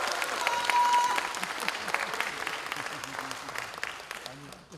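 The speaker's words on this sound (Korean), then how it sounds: "여러분 맞다면 박수 한번 보내주시기 바랍니다" Delegates applaud at a regional party convention during a leadership candidate's speech: a loud burst of clapping and crowd noise that gradually thins out, with faint voices underneath.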